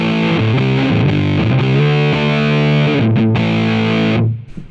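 A distorted guitar through a breadboarded DIY effects pedal with its body control being turned up, a loud, thick continuous tone with shifting chords that cuts off near the end.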